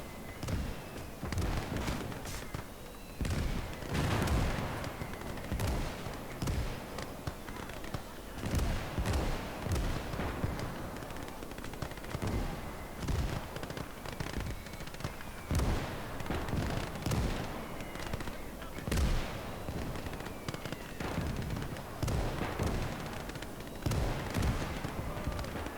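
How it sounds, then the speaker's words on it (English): Mortar fire in the World War II strategy game Gates of Hell during the Battle of Smolensk, heard as a dense, continuous run of booms and sharp blasts of varying loudness, some close and others distant. "Something like 6 mortars"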